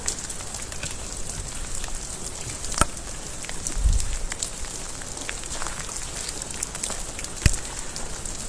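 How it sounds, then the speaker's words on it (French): Rain pours into an abandoned coking plant through its damaged roof, heard as a constant hiss of falling water with scattered drips and sharp splats on surfaces nearby. "il pleut fort à l'intérieur."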